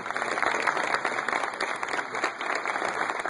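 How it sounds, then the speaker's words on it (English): Sustained applause from an audience, dense steady clapping filling the whole stretch without pause. "One more round of applause for Ellen."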